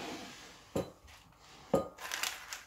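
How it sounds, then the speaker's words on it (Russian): Cardamom pods are pressed and crushed on a wooden board, producing two dull, close knocks about a second apart. Faint scraping and rustling follow in a quiet kitchen. "кардамон сейчас я возьму. Я его раздавлю"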